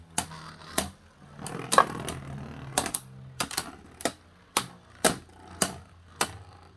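Hasbro Beyblade Drain Fafnir tops with Hypersphere tips launched into a stadium, giving a string of sharp, loud clacks about every half second as they clash, with a low whirring hum underneath and no talking.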